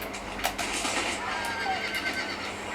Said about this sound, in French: Voilà, c'est mon cheval, j'espère